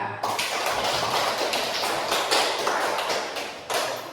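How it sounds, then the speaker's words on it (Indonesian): A classroom of students applauds a student group after its presentation, with dense, lively clapping that stays loud and steady for several seconds, swelling slightly near the end. "kita berikan aplaus untuk kelompok 2"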